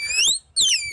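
A rising, piercing whistle made by blowing through an onion leaf imitates a bird call, two quick bright chirps close up with a short gap between them.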